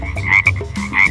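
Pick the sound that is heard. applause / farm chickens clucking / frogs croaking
frogs croaking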